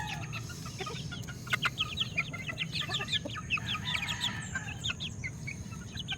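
A white kelso hen clucks in a run of short, repeated calls, fairly close over a low steady background hum, with other chicken sounds mixed in and no one talking.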